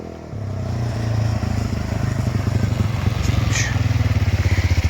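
Motor vehicle on new tyres driving steadily nearby, its engine putting out a loud, rhythmic putter that strengthens after a short start and holds to the end, with a brief high squeak partway through.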